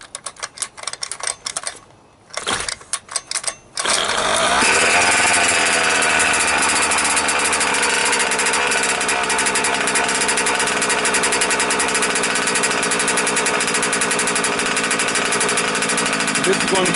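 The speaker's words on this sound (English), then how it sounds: "The engine starts very easy." Losi Five B RC car with an OBR 32cc Signature Series drag mod reed case engine, breaking in on its second heat cycle: a few sputtering pulls, then the small two-stroke fires and runs loud and steady, buzzing continuously close by.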